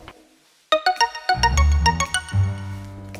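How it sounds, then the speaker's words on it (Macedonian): A mobile phone rings with a bright, melodic electronic ringtone, a quick series of chiming tonal notes starting abruptly, close and clear, over a low background hum. "ти звони телефонот"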